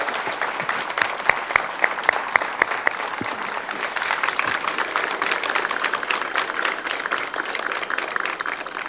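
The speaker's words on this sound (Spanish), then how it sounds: "yo les pido un fuerte aplauso para los protagonistas que son ellos" A school ceremony opening the school year at Escuela N°27 draws crowd applause, a long, even patter of many hands clapping at moderate loudness, with a few sharper individual claps standing out early on.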